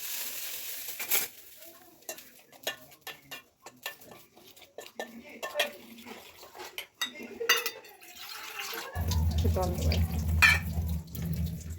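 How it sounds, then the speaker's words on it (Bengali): Mutton being mixed by hand with spice paste and a little water in a kitchen, with scattered clinks of metal utensils and wet stirring sounds, then a steady run of tap water near the end. "এই যে মাংস, মশলার ভিতরে একটু জল দিয়ে আমি একটা মিক্স করে নেব"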